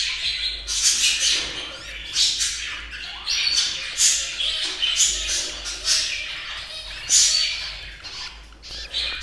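Budgerigar chicks squawk in shrill, repeated bursts while their nests are cleaned and they are leg-banded, close by and loud, with short pauses between cries.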